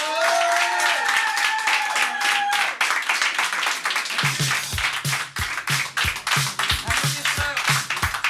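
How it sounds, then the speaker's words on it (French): A TV show audience applauds and claps to welcome performers, a dense burst of hand claps starting near and loud, then shifting into rhythmic clapping over a low beat as music begins. "on les accueille, applaudissez bien fort!"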